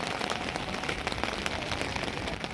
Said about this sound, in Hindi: कल रात से भी कंटिन्यू बारिश हो रही थी